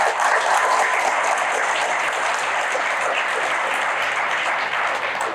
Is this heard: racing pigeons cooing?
no